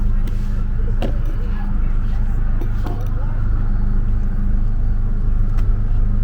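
A car backing out slowly, engine idling low and steady close by, with a continuous rumble and no clear revving.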